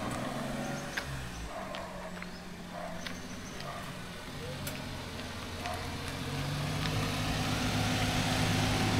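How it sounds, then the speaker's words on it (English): A Multicab mini utility vehicle's engine runs steadily while driving, a continuous low rumble that builds slightly louder toward the end, with faint clicks and cabin noises over it. "I'm driving my Multicab."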